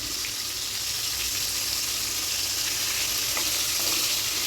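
Ridge gourd being stirred and cooked in a pan, a constant close sizzle with faint scraping throughout.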